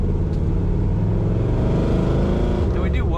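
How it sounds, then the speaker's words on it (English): Exhaust note of a 1956 Ford Fairlane Sunliner convertible with a three-on-the-tree manual, driving on dry winter roads in Minnesota: a steady, close engine rumble held throughout, with a voice talking over it. "Listen to that awesome exhaust note on this car."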